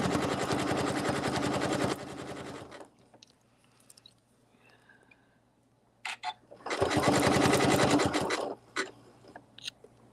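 A sewing machine zigzag-stitches a hotpad in two dense bursts, one at the start and one later, with a quiet stretch of faint handling noises between them.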